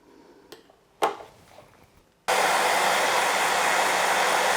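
Heat gun switching on with a sudden loud, steady airy blast while warming the vinyl on a Volvo 240 door card, preceded by a couple of faint clicks and knocks.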